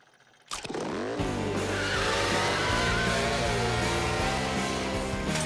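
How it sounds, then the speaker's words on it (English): Engine-powered model truck revving up and racing over a jump ramp in a cartoon, starting after a short quiet moment with a sudden burst, then a loud sustained buzzing motor whine that rises and shifts pitch as it speeds along. "Want to see a real model truck take that jump?"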